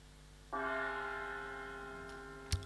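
At a conference venue, a session-start chime rings once in a quiet room as the timekeeper's signal. The bright, bell-like tone lingers and fades slowly over about two seconds and ends in a small knock.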